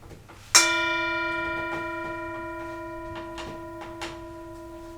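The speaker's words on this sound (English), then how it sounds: "I'll invite the bell to sound again and invite you and me to enjoy the sound of the bell." A single bell is struck once during a church service, ringing out sharply and then sustaining a long, clear, slowly fading tone with no talk over it.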